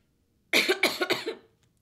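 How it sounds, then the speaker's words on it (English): A run of four harsh coughs in quick succession, close and fairly loud, from a man in a live stock-trading room, ending abruptly with silence before and after. "I'm sorry, I'm coughing so much"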